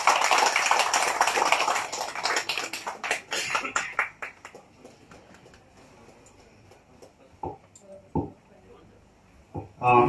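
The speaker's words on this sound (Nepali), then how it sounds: "ताली बजाइदिनु होला कृपया।" Audience applause at a Bhojpur Sewa Samaj UAE award and honour ceremony: dense, loud clapping for about four seconds that thins into scattered claps, then a few short isolated bursts near the end.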